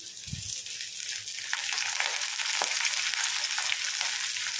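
Sliced onion, green chili and a sprig of curry leaves fry in hot oil for a bitter gourd pulusu, giving a steady, close hiss and crackle throughout, with a low thump near the start.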